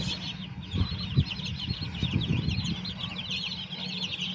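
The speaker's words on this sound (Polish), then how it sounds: "Kurczaki w odchowalniku." Young chicks cheep continuously in a brooder, a dense high chorus of small peeps with some soft low shuffling and fluttering underneath at moderate level.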